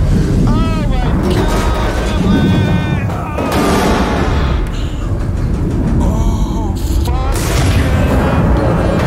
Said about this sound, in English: I think I just hit a explosion to the face.